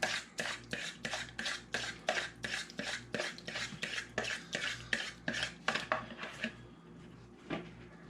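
A spoon stirs macaroni salad dressing in a bowl, scraping and clinking against the sides in a steady, quick rhythm of about two strokes per second. The sound is close and clear, then slows to a few last strokes.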